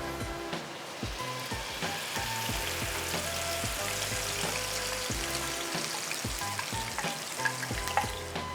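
Chili and ginger spice paste sizzles steadily in a hot pan, a dense continuous frying crackle with occasional stirring scrapes, close and alone with no talk.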